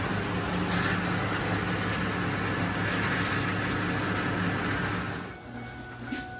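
A totaled Ford F-350 truck's engine runs steadily after its first start, a loud, even low rumble with broadband noise that drops off abruptly near the end.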